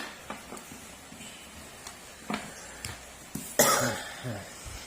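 A person gives several short, dry coughs, spaced out, with a louder harsher cough near the end, set against a faint quiet room.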